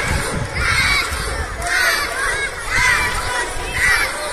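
A crowd of children at a youth sports activity cheering and shouting for a young athlete, rising in loud rhythmic bursts about once a second, close and energetic.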